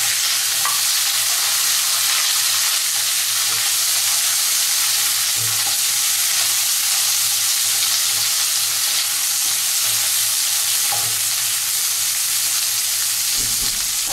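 Flat beans and green chilies fry in a pan, giving a continuous loud hiss and sizzle with occasional soft stirring scrapes and small pops, close up, with no talking.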